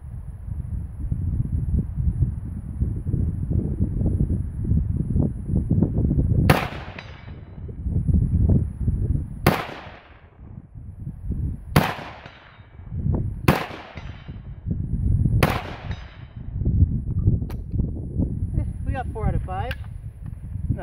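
A Vepr rifle fires five rounds at a steel plate: five sharp, loud cracks spaced a couple of seconds apart, over steady wind noise and low outdoor rumble.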